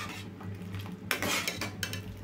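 A spoon scrapes and clinks against a pan as rava kesari is stirred, with irregular metallic scrapes over a low steady hum, close and with no voices.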